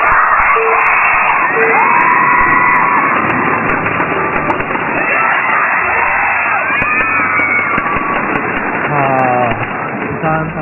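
A live crowd at a StarCraft match in a game arena roars and cheers as the game begins, a loud, dense wall of shouting and whooping that stays steady throughout, with a commentator's voice faintly over it.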